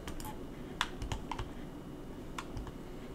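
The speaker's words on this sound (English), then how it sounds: "if you push it down about halfway, it'll click, and then you'll know, okay, that key was registered" Olivetti keyboard keys from an AT&T 6300 computer clicking during typing, a series of irregular, close, crisp clicks and taps over a low background hum, with no talk.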